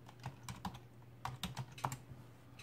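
Soft, irregular keystrokes tap on a computer keyboard in short bursts, quiet and close, with no voices.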